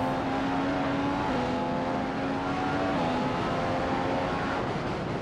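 The engine of a Formula 1 race car in the F1 2015 video game at the British Grand Prix drones loudly and continuously, its pitch holding steady with slight shifts throughout.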